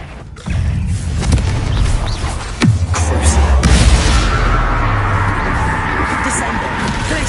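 Casting the Confringo spell in Hogwarts Legacy sets off a loud booming blast inside a cave, followed by a long rumbling decay over continuous game ambience, with a voice heard in the scene.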